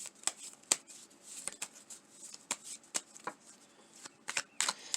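Whispering Woods oracle card deck being shuffled by hand: a steady series of soft, crisp riffling snaps and slides, close and quiet, repeating irregularly throughout.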